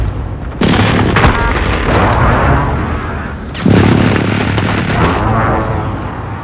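Two heavy artillery impacts boom out in a Call of Duty: Modern Warfare battle, the first around half a second in and the second about three seconds later, each a loud broadband blast that rumbles and decays slowly.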